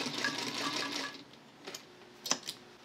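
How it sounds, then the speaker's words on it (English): A sewing machine stitches a convertible collar, a quiet rapid whir for about a second, then a few faint clicks and taps. "So I want to sew so it's just beyond the edge of the seam allowances inside."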